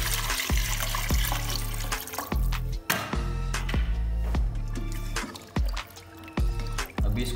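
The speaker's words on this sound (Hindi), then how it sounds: "1 लीटर पानी डाल लें आप।" Water is poured into a pot of softened ingredients for fish soup, a close splashing, trickling gush with uneven drips and sloshes throughout.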